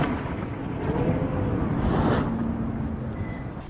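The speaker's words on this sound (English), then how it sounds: "This video shows the power of the Mark 82 bomb when it's fully loaded" A fully loaded Mark 82 military bomb detonates in a broad, rumbling roar that swells to a heavy peak midway and then slowly fades, sounding distant and dense with no voices.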